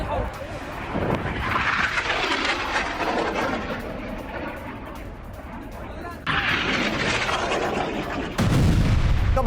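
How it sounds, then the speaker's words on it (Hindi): Booming explosions and rocket interceptions over Tel Aviv during Hezbollah rocket fire, a dense continuous rumble of blasts and thuds with louder bursts near the end, mixed with voices talking. "धमाकों की आवाज से गूंजा तेल अवीव। हिजबुल्लाह के कई रॉकेट आसमान में इंटरसेप्ट किए गए।"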